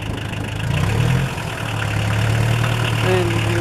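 An old Kubota L345DT compact tractor with a fresh battery runs at a steady idle, a close, even diesel drone with a low rumble and a faint rattle throughout.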